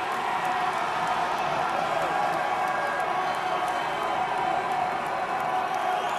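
A steady wash of crowd noise at a wrestling match, dense cheering and murmuring from a large audience that holds a constant level throughout, with no distinct voices standing out.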